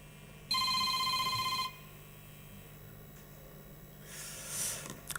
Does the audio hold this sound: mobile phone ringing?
yes